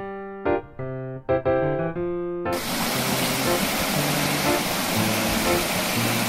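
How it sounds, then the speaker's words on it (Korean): A mountain stream in a valley at Black Rock Mountain in Georgia flows with a steady, full rush of water that sets in suddenly after a few seconds of music and continues unbroken. "계곡 물소리가 시원합니다."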